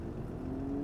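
A car engine in the driving game BeamNG.drive, during a tow-truck mode hauling new Volkswagens, droning steadily with a rising tone over a brief moment, with no talk.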